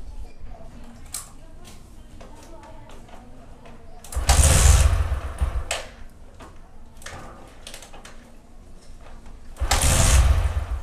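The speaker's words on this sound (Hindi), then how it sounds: "सबसे पहले बाइक को स्टार्ट करके आपको दिखा देता हूँ कि इसमें मिसिंग का प्रॉब्लम कितना है।" A Bajaj Discover 100 DTS-i motorcycle engine idles with a misfire from tight tappet clearance, a steady low running note broken by two louder, rougher bursts.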